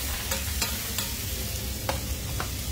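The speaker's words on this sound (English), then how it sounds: "I'm letting the onions and the mushrooms also saute with the garlic." Onions and mushrooms sautéing with garlic in a pan, giving a steady close sizzle with a few sharp clicks of stirring scattered throughout and no talk.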